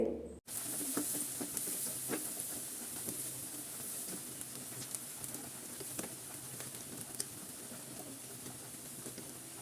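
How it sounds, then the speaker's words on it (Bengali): Onions sizzle and crackle in hot oil over medium heat, frying until browned, a constant frying hiss dotted with small pops. "পেঁয়াজ দিয়ে দিলাম এবার খুব ভালো করে এটাকে বেরেস্তা করে নেব"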